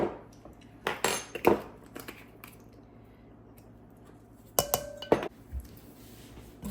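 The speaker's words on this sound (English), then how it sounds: "Mix this all around so that the cinnamon is evenly coated on all the apples." Sliced apples tossed with cinnamon in a bowl for homemade apple pie: scattered clinks and knocks of a utensil against the dish come in short bursts, with quiet moist shuffling between them.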